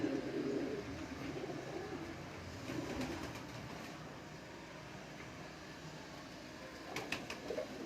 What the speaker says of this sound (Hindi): यहाँ पे एक मेरा फेवरेट कबूतर है बटेरा